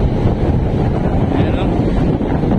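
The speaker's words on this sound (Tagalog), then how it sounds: "Napakalakas ng hangin. Sabi nila, amihan na daw." Strong wind roars across the microphone on Baler beach, a dense, loud, unbroken rumble with surf and waves churning underneath.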